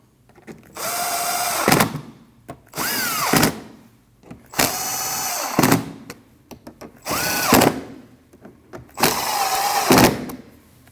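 A power tool whirs in five separate bursts, each lasting about a second, while tightening bolts on the rear bumper impact absorber of a 2013–2019 Ford Escape, loud and close with brief pauses between bursts and no talking.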